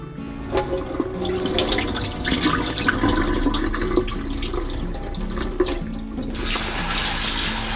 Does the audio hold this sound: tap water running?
yes